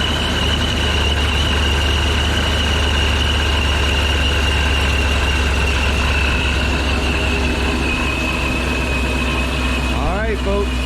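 A cammed 5.7 Dodge R/T engine with a Procharger supercharger idles loudly and close, a constant low rumble with a steady lumpy beat, and a speaking voice joins briefly near the end.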